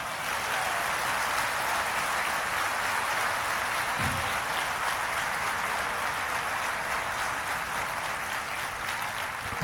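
A church congregation at a study Bible launch breaks into sustained applause, a dense, even patter of many hands that continues unbroken throughout.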